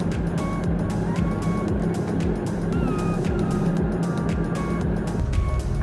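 Camper van rolling onto a sandy beach at Crohy Head, Ireland, a steady loud vehicle rumble and road noise filling the whole stretch with no talk.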